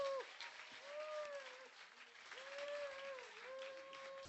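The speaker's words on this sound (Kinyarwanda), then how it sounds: "Komera Imana amashyi" A church congregation applauds faintly and at a distance, a soft patter of clapping under a sustained voice carrying melodic tones.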